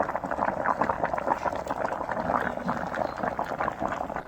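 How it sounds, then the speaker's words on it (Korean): A pot of rice boils on a home stove, a steady close bubbling and gurgling wash with no talk over it. "자, 끓는 것 같아."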